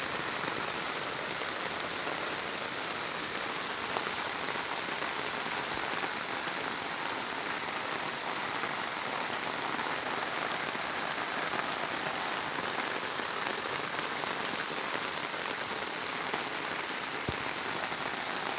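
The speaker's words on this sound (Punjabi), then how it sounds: "ਜਿਹੜੇ ਹਿਸਾਬ ਨਾਲ ਮੀਂਹ ਪੈ ਰਿਹਾ" Heavy rain pours down steadily on a village with overflowing drains, a dense, constant hiss of drops on hard surfaces with no pauses or voices.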